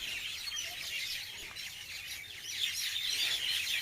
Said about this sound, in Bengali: আমি পাখিগুলোর আওয়াজ আপনাদের শোনাচ্ছি